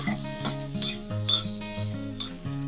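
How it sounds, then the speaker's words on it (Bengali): Boiled potato pieces stirred into spices in a pan with a metal spoon, four or five distinct scraping clinks against the pan over a low background hum. "সেই আলুগুলো এই মশলার মধ্যে দিয়ে একটু নেড়ে চেড়ে মিশিয়ে নেব।"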